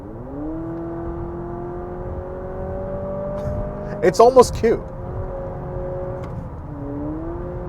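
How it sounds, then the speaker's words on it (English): A 2023 Honda CR-V Hybrid in sport mode plays a synthetic engine note, a steady rising drone under a spoken voice, with a brief louder burst midway before settling back to an even hum. "the fake engine noise that it makes when you have this in sport mode"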